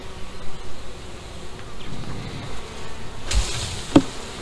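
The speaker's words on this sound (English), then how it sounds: "They got a lot of bees in the feeder." A steady, low hum of many honey bees buzzing close around hive frames, with occasional soft knocks and a brief clack near the end.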